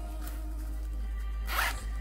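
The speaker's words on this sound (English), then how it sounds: "There's a zipper right here." A single quick zipper pull opens a pocket on a Gaems M115 gaming backpack, a brief close rasp near the end over a steady low electrical hum.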